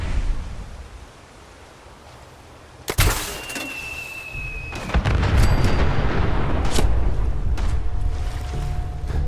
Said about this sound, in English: took care of almost the entire group with a single mini-nuke